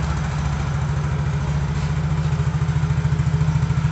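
A Yamaha X-Ride motorcycle engine, just repaired with a new air filter, idles steadily and close with an even low pulsing rumble that runs throughout with no talk.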